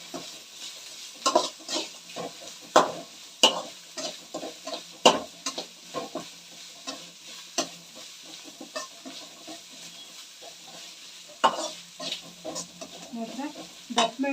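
Capsicum (bell pepper) being stirred and fried in a pan for egg rice: steady light sizzling broken by irregular scraping and clinking strokes of a spatula, close and moderately loud, with no talking.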